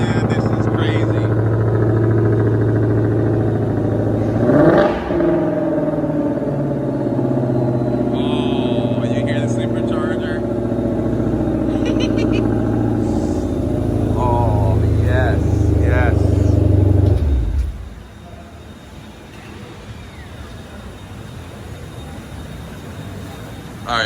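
A 2020 Shelby GT500 engine in regular mode rumbles loudly and revs for about seventeen seconds, with a sharp rise partway through, then cuts off into quieter background noise.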